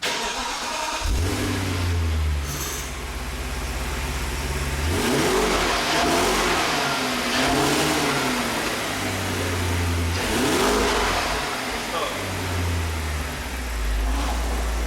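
A supercharged BMW Alpina B7, suspected of a supercharger fault, starts up and settles into a loud, close idle, then is revved twice in rising and falling surges.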